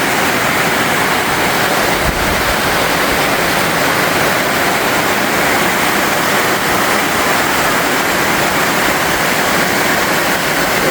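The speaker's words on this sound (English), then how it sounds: "All that beautiful fresh water coming from the sky." Heavy wet-season rain pours steadily in Malapoc Sur, Maasin City, Southern Leyte, Philippines, a dense, even hiss that is loud, close and continuous with no pauses and no voices.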